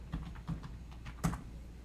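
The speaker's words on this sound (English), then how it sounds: "Why are you typing using that?" Several soft, evenly spaced keystrokes on a computer keyboard while a command is typed into the Windows Run box, close and quiet with no voices.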